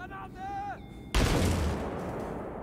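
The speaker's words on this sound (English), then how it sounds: "so I'm just going to toss a grenade" A grenade blast in a video game hits as one sudden loud boom with a long rumbling decay, following brief game tones.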